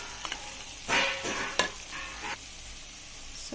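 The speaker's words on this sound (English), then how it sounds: "about 2 minutes so that the ginger garlic paste is fried well. Keep stirring it occasionally so that it doesn't stick to the bottom." Ginger garlic paste fries in hot oil while a spoon stirs it in a few short scraping bursts over a soft, quiet sizzle, close and without talk.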